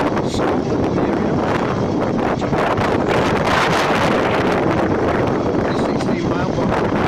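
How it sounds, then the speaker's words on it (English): Strong wind buffets the microphone in the far north of Scotland, a steady loud roar and rumble that continues without pause for the whole stretch. "It's a little bit on the windy side."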